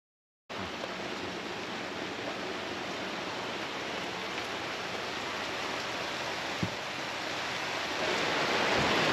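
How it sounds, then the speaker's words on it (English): Steady rain pours outside a sailboat, a constant, even hiss of falling water that swells slightly louder near the end, with a single faint knock partway through and no voices. "day 2 of raining outside"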